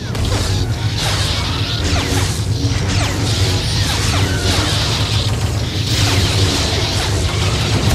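Sustained roaring flamethrower blasts being deflected in the Star Wars: The Old Republic video game, dense and loud throughout, layered with whooshes, crashes and impacts over a steady low hum of combat.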